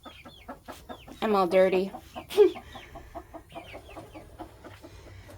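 A rooster and hens cluck and call in a homestead coop, with a loud rooster squawk among quieter chicken murmurs, while a person speaks briefly over them.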